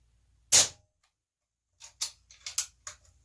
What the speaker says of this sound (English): I'm going to take my dummy shot